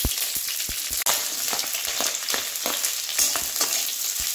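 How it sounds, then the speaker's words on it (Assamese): Dried chillies fry in a pan of dal with dhekia fern, giving a steady close sizzle with rapid crackles and popping and occasional stirring scrapes throughout. No one speaks. "চব শুকান জলকীয়া দি দিম"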